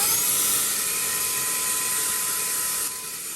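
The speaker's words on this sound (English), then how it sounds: "We'll see how the vacuum works." A SUNPOLLO 2-in-1 air duster and vacuum runs with a brush attachment cleaning a dusty keyboard, giving a high, steady whine that is close and loud and drops slightly in pitch near the end.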